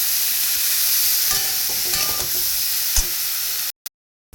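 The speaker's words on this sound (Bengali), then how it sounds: "ওটার মধ্যে হলুদ আর লবণ দিয়ে ভাজা ভাজা করে নিতে হবে" Cauliflower and potato fry with turmeric and salt in a pan, giving a steady loud sizzle with a few stirring scrapes. The sizzle cuts off abruptly near the end and a brief knock follows.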